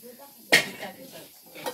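Pork frying in a pan while being stirred, with a sharp clink of a utensil against the pan over a faint sizzle and soft scraping, and voices in the background.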